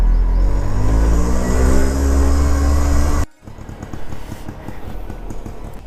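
An auto rickshaw's engine labours loudly up a steep hill road, droning steadily for about three seconds before cutting off abruptly, leaving quieter outdoor ambience.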